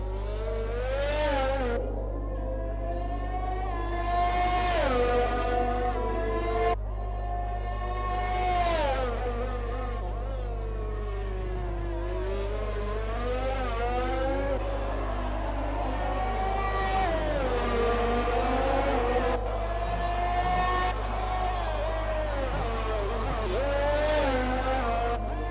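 Race car engine on an onboard lap of the Monaco circuit in a racing video game, a continuous high-pitched whine rising and falling through gear changes, loud and steady with no talk over it.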